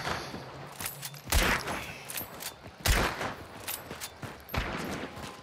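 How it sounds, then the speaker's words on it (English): Separate loud gunshots crack out in the shooter Hunt: Showdown, three or four sharp reports spaced over a few seconds with quieter noise in between. "Now they're firing at us."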